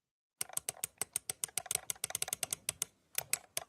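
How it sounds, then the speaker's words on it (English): Basic computer keyboard clicks as a sound effect: a quick, uneven run of crisp key taps, close and clear, with a short pause near the end before a few more strokes. "let's just go with basic keyboard clicks"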